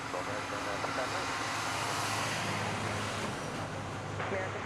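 American Airlines jet rolling for takeoff on runway 36 right at DFW airport, a steady broad engine roar that holds level throughout, heard from a distance with air traffic radio voices over it.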